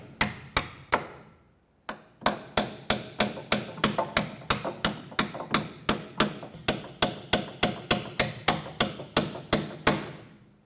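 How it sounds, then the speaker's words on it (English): A hammer taps strut bolts out of the rear steering knuckle of a 2006-2013 Chevrolet Impala, a long series of sharp metallic blows in a steady, fairly quick rhythm with a short pause early on, close and clear without talk. "we're going to go ahead and tap these strut bolts out of the knuckle"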